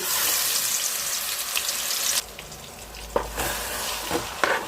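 Onion and masala paste frying in hot groundnut oil, a steady loud hiss and sizzle close by, with occasional stirring scrapes as the sizzle shifts and softens partway through.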